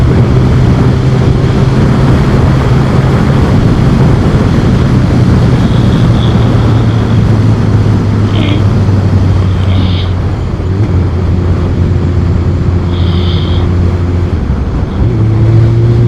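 Riding a motorbike with a wobbling handheld camera gives a steady, loud engine drone under heavy, constant wind buffeting, with faint whistling tones rising now and then over the continuous roar.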